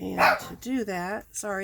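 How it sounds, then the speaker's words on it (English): A pet dog barks indoors, a few sharp close barks mixed with someone talking over a craft table. "that was my dog."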